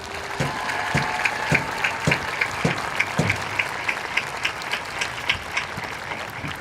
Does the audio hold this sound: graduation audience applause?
yes